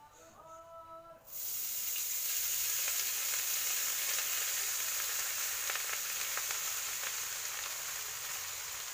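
Cooked rice tipped into a hot kadai (wok) bursts into a loud, steady sizzle after a brief quiet start, the frying hiss holding strong and close for several seconds with no talk.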